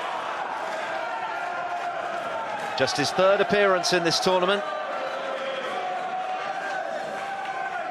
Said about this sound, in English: The crowd are absolutely in a frenzy.